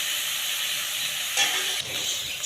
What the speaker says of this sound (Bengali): এরকম করে সময় ধরে আপনাকে নাড়ার উপরেই রাখতে হবে, তা না হলে কিন্তু নিচ দিকে লেগে যাবে